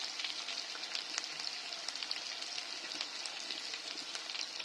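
Chili powder and cumin powder frying in hot oil in a pan for dhaba-style chicken masala, giving a steady, fairly quiet crackling sizzle that runs throughout with no talking.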